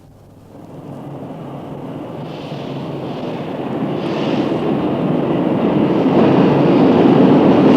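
A metro train rumbles and hisses, growing steadily louder as it approaches, with a high whine rising over the roar.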